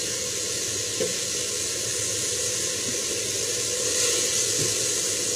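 Water poured into a hot pan of chicken breast hisses and sizzles steadily, a dense, close, even steam noise with a few faint clinks.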